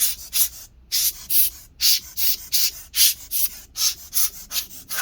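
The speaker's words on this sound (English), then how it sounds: "I hold it so that it doesn't just freely spin while I'm brushing it." A brush scrubs dust from a Dell Inspiron 15 7573 laptop fan in short, rhythmic strokes about twice per second, each a close, crisp bristly swish separated by brief pauses.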